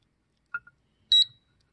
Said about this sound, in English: Oh, I heard my safe beep.